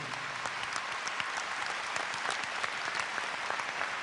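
A crowd applauds at a show jumping event, the steady, even clapping filling the whole short moment without any voices.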